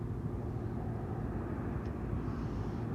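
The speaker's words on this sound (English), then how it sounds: "Last flight of the day will be VS411 to Lagos." A Virgin airliner, flight VS411 to Lagos, departs Heathrow at day's end, heard as a steady, broad low-frequency engine roar that holds evenly throughout without any talk.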